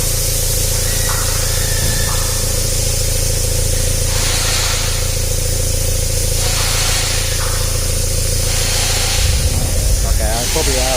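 A running car engine with a JCW exhaust rumbles steadily up close, its low drone mixed with a constant exhaust hiss that carries on without a break.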